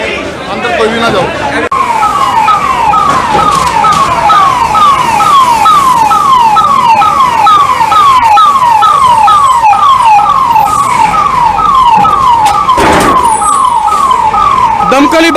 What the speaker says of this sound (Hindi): दमकल विभाग की गाड़ी जो है मौके पर पहुंच गई है